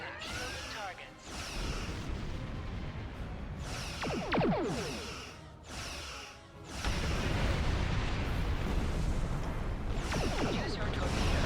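Starship torpedo blasts in the space game Star Trek Online, heavy booms and whooshing launches rolling one after another, with a game voice speaking over the explosions.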